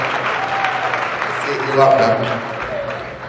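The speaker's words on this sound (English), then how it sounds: "can we have one more round of applause for all of our teen duo trios today?" An audience at a teen and senior dance awards ceremony in Minneapolis claps steadily throughout, while a voice speaks briefly over the clapping.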